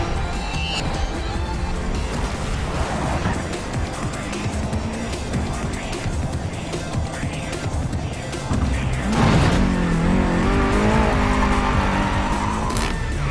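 Game cars in Need for Speed World roar along with tire squeals, then crash and flip with a loud impact and scraping near the end, under continuous engine noise.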